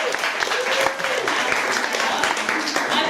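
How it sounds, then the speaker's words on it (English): An audience claps steadily in a round of applause at a cooking show dinner event, dense and continuous, with a faint voice running underneath. "Can we get a round of applause? Clap your hands if you would like to be a part of this dinner."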